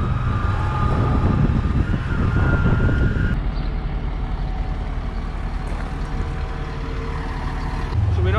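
A tractor pulls a rotary rake through dry second-cut alfalfa, a loud, steady engine drone with a mechanical whir that drops slightly in pitch partway through.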